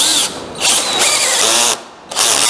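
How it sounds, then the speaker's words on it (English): A 3/4 inch auger bit drills a hole in wood for a bow back Windsor chair, the drill whining loudly in close bursts with two brief pauses between runs. "I have this 3/4 inch auger bit"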